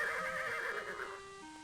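A black horse in King's Quest VI neighs in a sharp, loud whinny that wavers and then tapers into a steadier tone, with faint hoof clops underneath.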